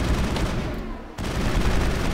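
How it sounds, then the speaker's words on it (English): Sustained automatic assault rifle fire in Mass Effect, a dense continuous burst of loud shots that breaks off for a split second and then resumes just as heavily. "Let me get out my assault rifle again."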